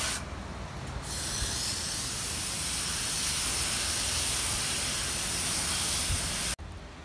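Steady broadband hiss of water spraying from a hose to wet and rinse fabric grow pots, loud and close, running continuously before cutting off abruptly near the end.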